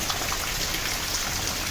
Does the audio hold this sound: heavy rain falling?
yes